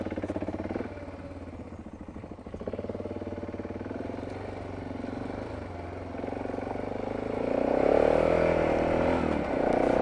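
A motorbike ridden with tyres let down to about 20 psi front and 24 psi rear, its mid-pitched engine droning steadily close by with wind rush, rising slightly in effort toward the end.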